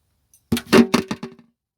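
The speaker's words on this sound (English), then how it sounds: "So now this one seems a little bit long and I'll just cut it." Scissors snipping crochet yarn on a large fur-trimmed Santa party slipper, a short close run of several quick cutting clicks and rustles, with no talking.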